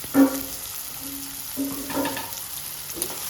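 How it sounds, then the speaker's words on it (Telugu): Onions fry in a pot for prawn pulao, a soft close sizzle broken by a few short clinks and stirring sounds. "ఇప్పుడు అది మరిగిపోతుంది కాబట్టి ఇప్పుడు ఉల్లిపాయలు వేసేసుకున్నాం"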